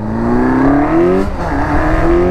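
A Honda CBX 250 Twister fitted with a Hornet 600 engine and a 2-into-1 exhaust from a 160, running with the exhaust closed, holds a steady, loud, droning rev with a slight rise and a brief dip midway, close to the microphone.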